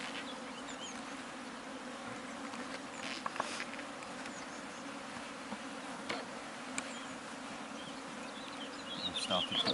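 Honey bees buzzing around an open beehive fitted with two supers during a hive check, a dense continuous hum close by with a few louder passes and faint handling sounds, no talking heard.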